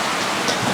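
Steady rain falling on a surface, a dense even hiss with no voices, brief and continuous throughout.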